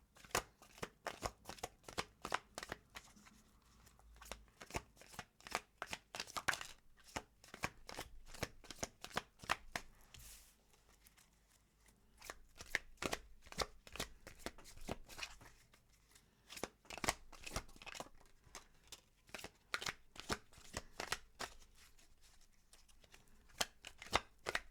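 Tarot cards are shuffled in bursts of quick, papery riffling and flicking, faint and close, pausing briefly between rounds, with no voices.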